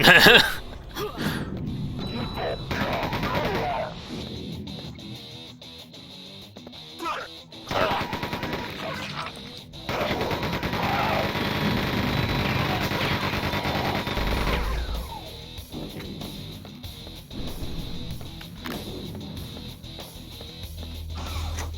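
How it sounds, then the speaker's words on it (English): The Quake 2 chain gun fires in long, loud sustained bursts with a rapid mechanical rattle, broken by short gaps and spin-downs amid game noise and occasional faint voice. "Sometimes the chain gun seems to spin down fast after having fired a bit."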